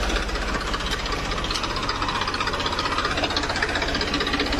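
A farm tractor's diesel engine chugs steadily at close range as it drives off, a loud, rough, knocking rumble that stays constant throughout without speech.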